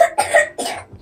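A child coughs three times in quick succession, close and fairly loud, in short harsh bursts with no talk.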